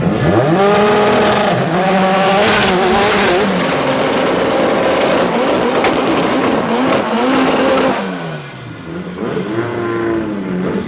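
Front-wheel-drive class A drag race cars, a Ford Fox and a Honda CRX, roar loudly down the strip at Midvaal Raceway, engines revving and climbing through gears with a sustained, continuous howl.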